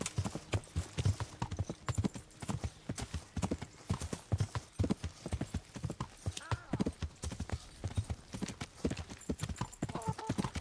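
Hooves clip-clop in a fast, dense stream from horses in a knight video game, with occasional whinnies and game sounds, while a voice talks over the action throughout.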